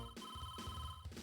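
An old-fashioned telephone rings in a video game, giving a continuous bright electronic bell tone with a steady metallic buzz that pulses faintly, close and alone.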